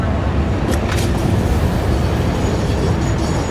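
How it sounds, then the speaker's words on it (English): A train rumbles steadily in the factory-building video game Satisfactory, a loud continuous rolling drone with faint high clatter near the start. "So let's hop on this train right here"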